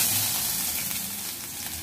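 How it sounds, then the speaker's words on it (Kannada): Finely chopped onion sizzles steadily in hot oil in a kadai, a dense, even crackle of moderate loudness that holds for the whole moment with no voices. "ಒಂದು ಬಾಣಲಿಗೆ ಎಣ್ಣೆ ಹಾಕೊಂಡು ಎಣ್ಣೆ ಸ್ವಲ್ಪ ಬಿಸಿ ಆದಮೇಲೆ ಅದಕ್ಕೆ ಸಣ್ಣ ಕಟ್ ಮಾಡಿರಂತ ಈರುಳ್ಳಿನ ಹಾಕೋಬೇಕು"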